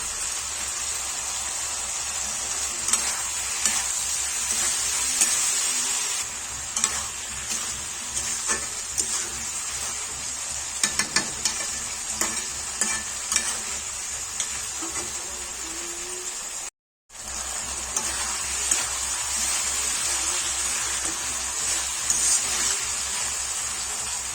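Minced chicken and fried potatoes sizzle in a pan for chicken ghugni, a constant hiss broken by scraping and knocking from stirring, with a short complete dropout before the frying noise returns.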